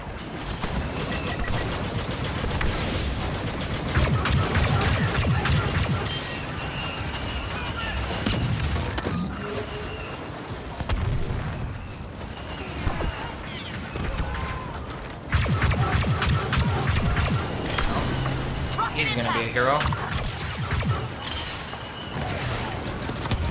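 Rapid bursts of blaster gunfire in the video game Star Wars Battlefront 2, dense repeated shots over mechanical game effects and battle noise, sustained throughout with occasional pauses and some quiet talk.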